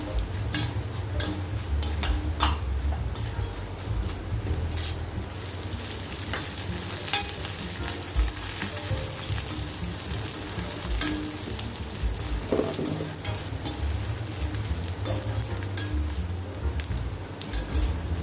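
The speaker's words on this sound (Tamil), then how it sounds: "இதெல்லாம் கொஞ்சம் நல்ல வாசம் வர வரைக்கும் வறுபடணும்" Dried red chillies and lentils frying in hot oil: a continuous, close crackling sizzle with the scrape of stirring throughout, no voices.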